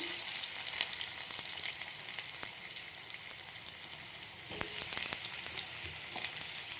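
Potatoes and sweet potatoes hit hot oil with a steady hiss, then a sudden louder burst of sizzling as more pieces drop into the pan, close and continuous with a few light clicks of stirring and no talk.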